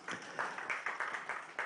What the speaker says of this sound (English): a general round of applause for all of us that are participating.